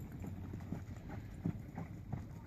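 Horse hooves loping across an arena during performance horse training, a steady three-beat clip-clop rhythm of close, moderately loud footfalls with faint background noise.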